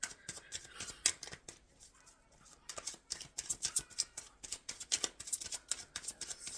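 Quiet, crisp riffling and flicking of cards in quick bursts, pausing briefly before resuming with rapid snapping clicks.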